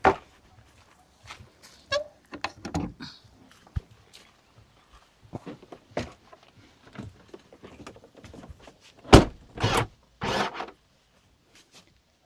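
An electric latch mechanism with ceiling hooks in a large motorhome clicks shut: several sharp, close clicks and knocks, with a louder cluster of snaps near the end amid faint handling sounds.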